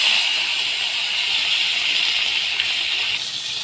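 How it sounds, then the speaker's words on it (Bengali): Bata fish sizzle in hot oil in a frying pan, giving a steady, close hiss with light crackle that holds at an even level throughout, with no talking. "এই যে মাছগুলো ভাজা হচ্ছে"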